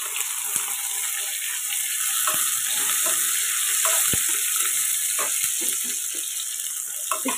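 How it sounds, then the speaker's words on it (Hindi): Finely chopped onion frying in a pan for chana masala, a loud, close, steady sizzle with scattered crackles and the scrape of stirring throughout. "इसको ब्राउन कलर होने तक इसको ऐसे ही फ्राई करते जाएंगे।"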